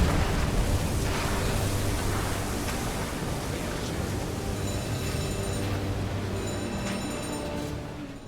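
A torpedo strikes a ship in the submarine game UBOAT, a sustained heavy rumbling roar of explosion and rushing water that stays loud for the whole stretch and fades only slightly at the end, with faint metallic tones ringing above.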